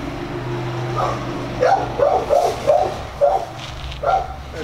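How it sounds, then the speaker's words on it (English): A dog barks outdoors on a rural property where a man rides a four-wheeler, several sharp barks and yips in a loose rhythm over a steady low engine hum. "That dog almost ran into that fucking trailer."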